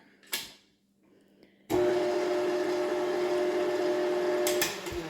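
Yeast being mixed in a bowl before fresh-milled flour goes in for no-knead bread: a faint knock in near silence, then a steady mechanical whir starts abruptly, runs loud for about three seconds and eases off.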